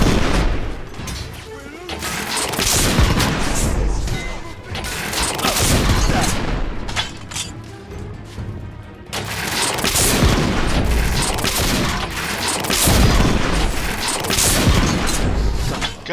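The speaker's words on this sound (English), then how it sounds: "We are witnessing heavy artillery fire at the moment." Heavy artillery fire and gunfire in The Order: 1886 form a loud, dense, continuous barrage of booms and shots with a short lull midway, with a voice faintly under the din.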